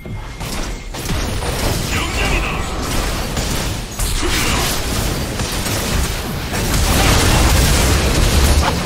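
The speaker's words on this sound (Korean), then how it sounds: "빨간 팀의 포탑이 파괴되었습니다." A turret being destroyed during a League of Legends match on Summoner's Rift, heard as booming explosive impacts and crunching mechanical game effects over a dense, busy soundscape, growing louder toward the end.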